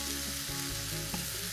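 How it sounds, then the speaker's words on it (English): Onions cook in a pan for a caramelized onion tart, giving a brief, steady, close sizzle with a soft scrape of stirring partway through. "I'll let the onions cook"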